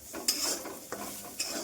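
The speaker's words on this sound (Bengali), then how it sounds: "এই যে কুঁদরি আলু ভাজা" Ivy gourd and potato fry in a pan with a faint sizzle, broken by three brief scraping stirs of a spatula, quiet and close with no voices.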